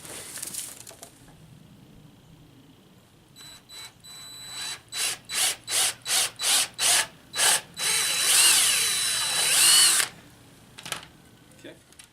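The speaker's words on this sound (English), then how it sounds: "I'm going to drill another 1/4 inch hole this way" A power drill bores a quarter-inch hole through wood for a double bucksaw frame, revving in about eight rhythmic bursts before a longer continuous whine, loud and close.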